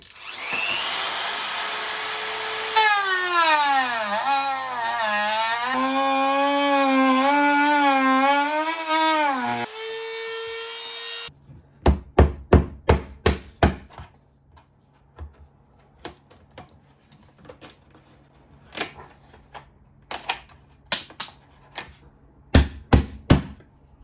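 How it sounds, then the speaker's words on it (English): A Dremel rotary tool cuts through a thin wooden panel in an office, its high motor whine wavering up and down in pitch for about ten seconds, followed by quiet broken by scattered sharp knocks and taps. "I'm assuming a Dremel will be able to get through this"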